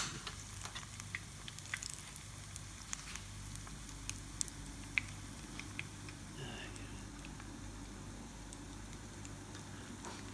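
Rogan Josh curry sauce cooks on a cooker with a soft, steady sizzle and occasional small pops and stirring clinks, quiet and close, with a voice speaking faintly at times.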